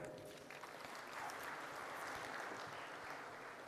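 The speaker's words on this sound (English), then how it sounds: "Big round of applause for the launch of CFC, CPU, and SOC right here at Shield 2025." An audience applauds steadily for a few seconds at the Shield 2025 cyber security conclave launch at HICC, Hyderabad. The dense, even clapping fills a large hall with no voices over it.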